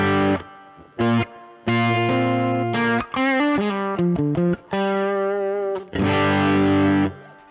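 Electric guitar through a Two Rock Classic Reverb amp with an ODS-style overdriven tone: a sustained chord, short stabs, then a run of quick melodic single notes and bends, ending on a loud ringing chord, close and alone.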